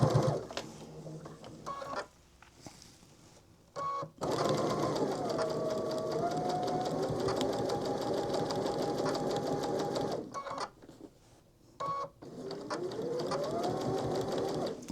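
A sewing machine stitches a charity quilt block in close, steady runs of rapid needle chatter. Short pauses and handling noises break the runs, and the motor pitch rises and falls between bursts.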